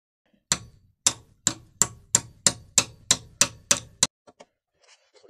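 A stuck bolt in a swivel seat is struck about ten times with a hammer, sharp metallic blows at an even pace, close and loud, followed by a few faint knocks.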